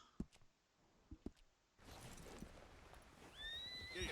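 A horse in the video game Red Dead Redemption 2, near a stable, gives a few sharp snorts and neigh-like calls before a steady rumble of hooves and movement sets in, ending in a loud, high whinny.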